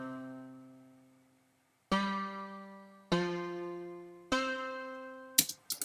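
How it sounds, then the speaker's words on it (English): Plucked synth sound from a song: three sharp, decaying harmonic notes at steady intervals after a held tone fades, closing with a quick burst of clicks. "And then there's also this plucked sound."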